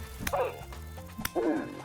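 A wolf in Vintage Story gives two sharp yelps, each followed by a high wavering whimper, close and fairly loud within a short fight, with low game ambience underneath.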